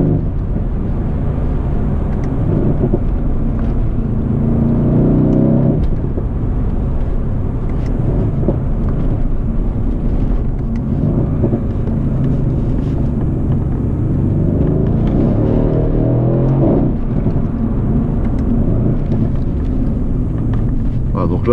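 Mercedes C63 AMG sedan accelerating along narrow country roads, a steady deep engine rumble with swelling pulls throughout, loud and continuous under someone talking in French.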